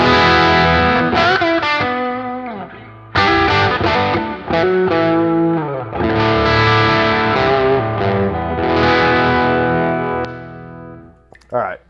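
An electric guitar runs through the Tumnus side of a Wampler Gearbox overdrive, with loud crunchy chords and sustained bends separated by short pauses, close and heavily driven, ending in a few clipped notes.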